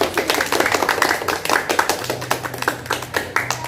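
A group of participants at an ice-breaking games session claps together after a story, a dense, steady patter of hand claps lasting several seconds over a low background hum.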